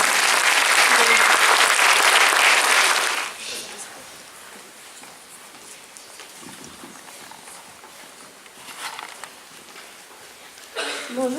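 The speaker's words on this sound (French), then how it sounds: "Donc, Mathieu Fraillon, on les applaudit tous." An audience applauds a CM1 primary school class from École Albert Camus in Creil, loud dense clapping that stops abruptly after about three seconds, leaving faint room noise and a few scattered claps.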